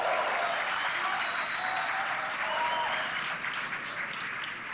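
A crowd at the Starship IFT-2 launch countdown, steady clapping and cheering from many people, loud and continuous, fading slightly toward the end.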